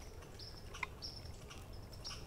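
A red squirrel chirping nearby during a squirrel hunt, heard as short high chirps and trills repeated over a faint, hissing outdoor background.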